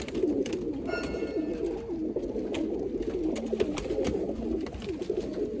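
Kasuri pigeons coo repeatedly, a dense run of soft rolling low calls close by with overlapping birds, over faint background noise.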